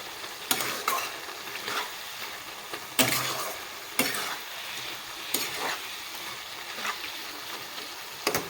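Shredded cabbage stir-fried in a pan to cook off its water, a steady sizzle broken by repeated scraping strokes of a spatula roughly every second, close and clear with no talk.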